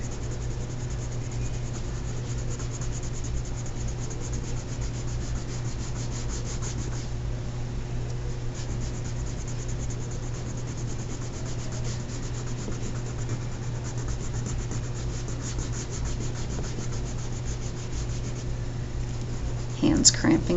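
A yellow crayon scrubs steadily across paper while shading a pumpkin sketch, a continuous close, soft rubbing texture with a faint hum beneath, ending in a few heavier strokes.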